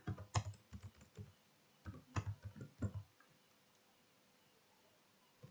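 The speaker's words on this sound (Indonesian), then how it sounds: "Setelah kita mengetik ini" Typing on a computer keyboard while entering values into a Microsoft Excel spreadsheet, with quick bursts of close clicking key taps over about three seconds, then quiet room tone.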